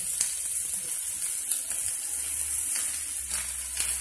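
Chinese broccoli frying with Thai basil as rice wine vinegar goes into the pan, giving a continuous sizzling hiss with a few sharp crackles and spatters, close and fairly loud with no voice over it.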